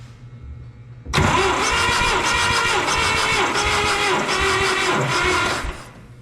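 A 1972 Allis Chalmers M65 road grader engine cranks on its starter during a compression test of cylinder number one. It kicks in abruptly with a loud, steady, rhythmic churning for about four and a half seconds, then stops.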